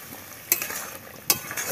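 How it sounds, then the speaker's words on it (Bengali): Shrimp sizzles steadily in a pan for jackfruit curry, and two sharp scraping stirs of a utensil cut through the frying hiss. "তো এবারে ভিতরে মাছটা দিয়ে দিচ্ছে, মানে চিংড়ি মাছ আর কি।"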